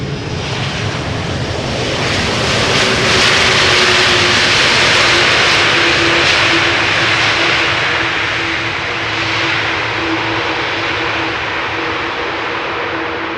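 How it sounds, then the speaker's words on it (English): A KLM Airbus A330-200 landing at Schiphol on its return from Toronto produces a loud, sustained jet roar that swells and then eases across the span, with a steady engine tone running through it and no talking. "KLM Flight 696, returning from Toronto."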